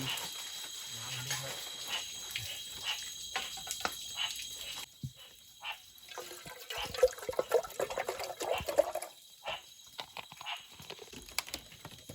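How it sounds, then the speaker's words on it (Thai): Running water splashing and pouring as something is rinsed off to clear away cement residue, irregular gushes and drips nearby, with people talking at times. "ล้างออกเลยเพื่ออาจจะมีแบบปูนมีอะไรพวกนี้"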